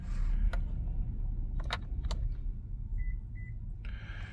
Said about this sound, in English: I think 2 beeps is good